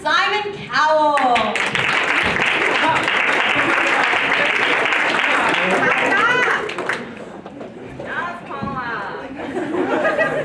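A Hollywood studio audience bursts into loud, sustained applause with cheers and scattered laughter, greeting the judges Paula Abdul and Simon Cowell, then tapers off near the end as voices and chatter rise.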